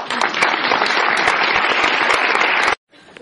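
Audience applause at a financial-intelligence talk: dense, steady clapping from a full room that stops abruptly near the end, leaving near silence.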